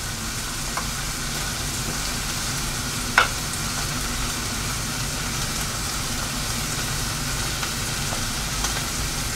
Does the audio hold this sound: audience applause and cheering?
no